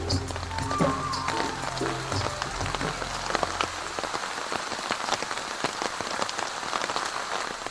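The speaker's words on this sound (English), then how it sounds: "The monsoon rains fall in October" Monsoon rain pours steadily onto surfaces, a dense, continuous patter of drops heard close and loud, with a low rumble fading out early.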